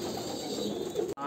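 Kalanka pigeons of an Andhra pure bloodline coo softly nearby, a short low throaty call over a faint steady background, cut off abruptly near the end.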